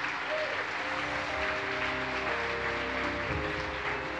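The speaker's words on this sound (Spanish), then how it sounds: "Aplauda fuerte al Señor Jesucristo." A church congregation claps loudly and continuously during a sermon, with a dense, even wash of applause and tonal music or voices running underneath.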